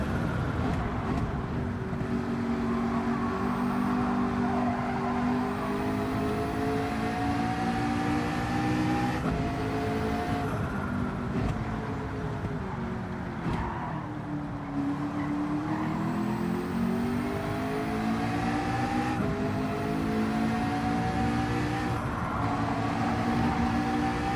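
Steady, loud engine drone with shifting pitch as a race car revs and shifts, over continuous rumbling road noise, no talking, in Gran Turismo 7 qualifying at Bathurst.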